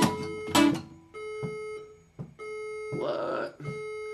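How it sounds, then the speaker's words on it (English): Electronic alarm sounding inside a hotel in Melbourne, Australia, steady sustained tones with beeping harmonics that stop and restart, interrupted by short bursts of sound, fairly loud and close. "Set the alarm off in the freaking place."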